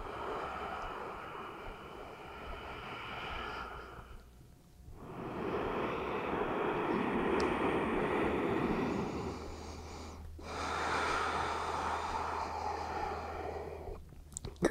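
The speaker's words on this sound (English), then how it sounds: "Listen to the sound of your breath" Long, slow breaths during a yoga session come in drawn-out rushing airy exhales and inhales, close and steady, separated by brief pauses in an otherwise quiet room.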